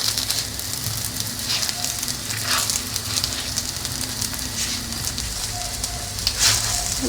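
Malwi flatbread frying in fat in a pan, a steady crackling sizzle with dense pops running throughout at close range, with no voices.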